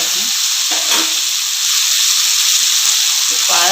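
Athalakkai vegetable frying in hot oil for a Tamil poriyal, giving a loud, steady, close sizzle and hiss throughout, with a faint voice briefly underneath.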